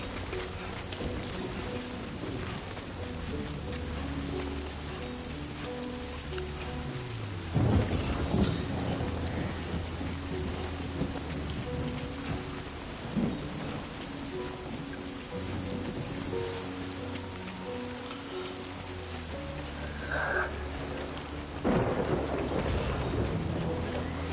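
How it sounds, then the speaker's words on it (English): Steady heavy rain hisses through a thunderstorm in the video game Death Stranding 2, with deep rumbling thunder cracks breaking in around the middle and again near the end, no talking. "Storm is crazy."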